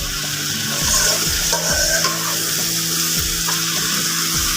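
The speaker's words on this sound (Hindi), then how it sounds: "ये प्याज को फ्राई कर रहे थे, अच्छी तरह चमचा हिला लेते हैं।" Onions frying in a pot while being stirred with a spoon, a steady sizzle underneath repeated scraping strokes and soft clanks of metal against the pan, close and fairly loud with no talking.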